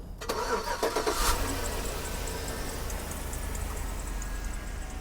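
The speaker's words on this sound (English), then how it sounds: "I just hear a squeaky belt." A Dodge Challenger in poor condition at an auto auction cranks briefly and fires up, then settles into an idle. A thin, high, repeating squeak from a worn belt or pulley sounds over the engine.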